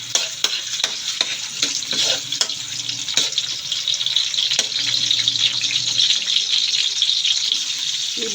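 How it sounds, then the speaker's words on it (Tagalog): Garlic sautés in cooking oil in a pan for Filipino pakbet, a loud continuous close sizzle punctuated by sharp clicks and scrapes of a spatula stirring, with no speech. "Lagyan mo natin ng mantika. Ayan. Tara, mag-gisa na tayo."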